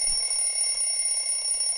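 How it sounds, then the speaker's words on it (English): An alarm clock rings continuously in the morning, a steady, shrill electronic tone with bright high overtones, loud and close, with no voices over it. "Fight the alarm. Don't snooze it."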